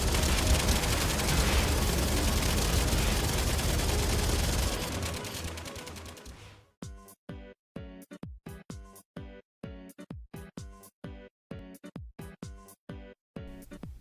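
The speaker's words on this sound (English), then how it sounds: "we can shoot it like it's a minigun." Rapid gunfire from a blast pistol in the Warframe video game: a loud continuous roar of shots for about five seconds, then dying away into a string of sharp separate bursts with gaps between them.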